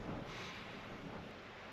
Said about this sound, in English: And it is windy out today.